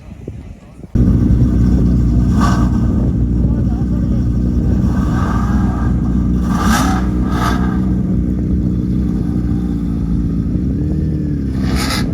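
A car engine idles steadily with a deep, even rumble throughout, close by, with occasional brief higher noises over it.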